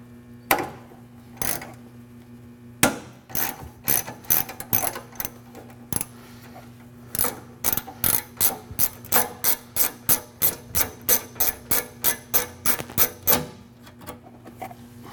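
Ratchet wrench turning a tight fender bolt on a car, a run of sharp pawl clicks in bursts, then a steady rapid series of close, loud clicks.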